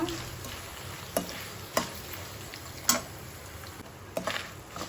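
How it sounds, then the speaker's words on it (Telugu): Dried red chillies, coriander seeds and cumin seeds fry in oil for a gongura chutney, a soft steady crackle with a few sharp stirring clicks and taps of a spoon against the pan, close but quiet, no voices. "ఎండి మిరపకాయలు ధనియాలు జీలకర్ర ఇవి మూడు ఆయిల్లో ఫ్రై చేస్తున్నాను"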